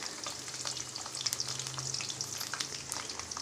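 Bitter gourd pieces fry in a pan with no salt or turmeric, giving a steady close sizzle and crackle throughout with a few brief pops.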